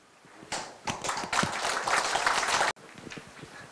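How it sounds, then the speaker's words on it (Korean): Audience applause breaks out at a Korean history forum as a professor is welcomed to the stage, a dense steady clapping that builds quickly, holds loud for about two seconds, then cuts off abruptly, leaving a few scattered claps. "저희들이 진정으로 맞이하는 뜨거운 박수로서 우리 손성태 교수님을 자리에 모시겠습니다."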